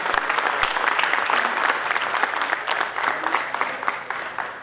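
Theatre audience applauding cast members after a Hindi comedy stage play, a dense, steady wash of many hands clapping at close range throughout, with no voices standing out.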